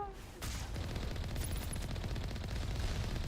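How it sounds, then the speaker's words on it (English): Rocket turrets firing in Mass Effect, a dense, continuous barrage of rapid explosive shots and impacts that starts abruptly after a brief lull and keeps pounding loudly throughout. "Oh, we're getting shot by the rocket turrets over there already."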